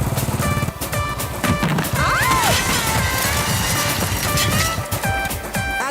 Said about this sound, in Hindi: अल्फा, मैं यहाँ गिर गई हूँ, आ जाओ यार।